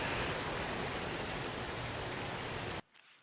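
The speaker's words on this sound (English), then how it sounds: "I just wanted to put that in so you can hear the waterfall in the background" Waterfall ambience in a video game plays as a dense, constant roar of falling water that cuts off abruptly near the end, leaving near silence.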